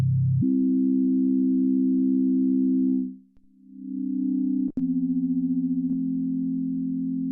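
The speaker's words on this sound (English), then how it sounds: "So that's one oscillator going through the filter, and I've got it going through this envelope here." A UDO Super 6 desktop synthesizer plays a single sustained oscillator tone through its filter and envelope, a steady buzzy note that dips in pitch and level midway, then holds a slightly different pitch, with a brief click near the end.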